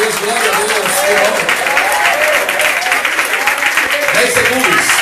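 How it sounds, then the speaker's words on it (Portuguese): A church congregation claps steadily throughout, dense and loud, with voices calling out and cheering over the applause. "Quando você estiver aplaudindo"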